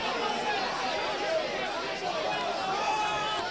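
A rugby league crowd at a Wakefield versus Keighley Yorkshire Cup match, a steady murmur of shouting and chatter from spectators voicing displeasure at the referee, fairly distant and continuous.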